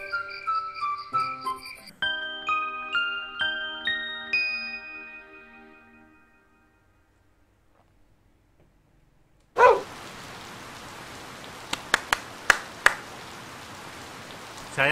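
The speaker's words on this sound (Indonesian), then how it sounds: "Saya suka hujan." Rain in the video game Harvest Moon Light of Hope: after plucked chime-like music fades into near silence, a steady soft patter of rain sets in, broken by a few sharp drip-like taps.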